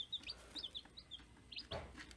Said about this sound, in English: There's our little chicken cleaning